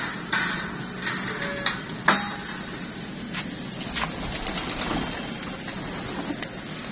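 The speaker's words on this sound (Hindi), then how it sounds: "दोस्तों ये है जी कबूतर माशाल्लाह" Rampuri pigeons coo softly in a loft, low murmuring calls over a faint background with a few sharp knocks and wing flutters.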